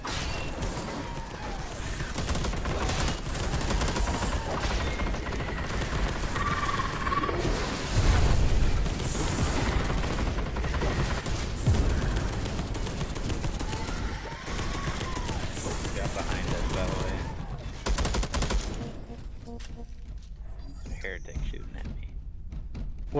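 In the Space Hulk Deathwing video game, rapid machine gun fire and heavy impacts rattle on and off amid game noise, with a person talking over the din before it drops off near the end.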